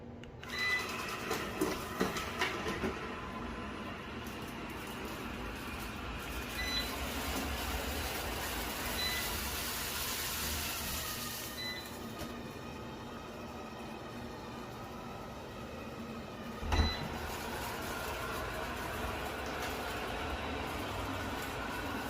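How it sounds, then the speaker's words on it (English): A TCL Sweeva 1000 ultra-slim robot vacuum cleaner runs with a steady, quiet broadband whir and hum, holding an even level throughout with a few brief bumps and one sharp knock near the end. "this is probably one of the quietest robot vacuums I've tested"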